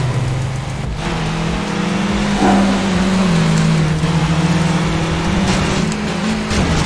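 Car engine roar from a racing game, a Volkswagen Golf in Midnight Club 3 street racing, droning steadily and loud throughout with rising and falling pitch as it revs, no voices over it.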